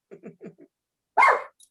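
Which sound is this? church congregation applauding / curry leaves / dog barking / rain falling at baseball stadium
dog barking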